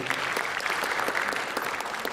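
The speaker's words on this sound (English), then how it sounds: "Please round of applause." Applause from an audience at an interfaith peace event in Melbourne greets a speaker coming onto the stage. The clapping is steady and full, with many hands heard at a moderate distance throughout.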